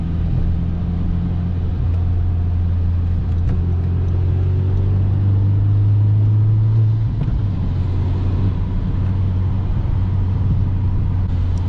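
A car returned to stock factory tune cruising on the road, giving a steady, loud low engine drone and road rumble that persist throughout, with a brief rise in engine pitch midway and no talking.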